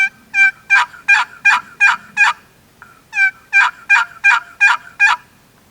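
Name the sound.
Esh Custom Calls wooden box turkey call yelping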